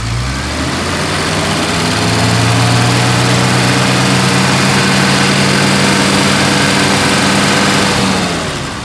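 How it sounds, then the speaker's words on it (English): A 1968 Mercedes-Benz 250SL engine revs up from idle and holds a loud, steady high-rpm drone for several seconds before easing back down, heard up close with no talking. "let's do a couple revs here"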